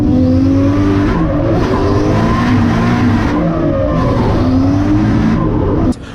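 A Nissan Skyline R33 drift car with a supercharger poking through its bonnet roars off the start line at the Val-de-Vienne circuit, its engine loud and continuous, tires squealing and scrabbling as it accelerates hard.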